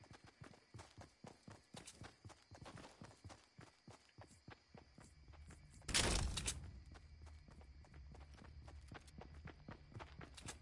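Donkey hooves clip-clopping in the video game Fortnite, a steady run of light hoof taps with a brief loud burst partway through and faint background game noise.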